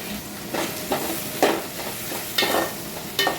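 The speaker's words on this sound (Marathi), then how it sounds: "कांदा आणि कढीपत्ता टाकल्यानंतर आपण ते ढवळून घ्यायचं आहे।" Onion and curry leaves fry in a pan while a spoon stirs them, making a steady sizzle with periodic scraping bursts, close and fairly loud, with no talking.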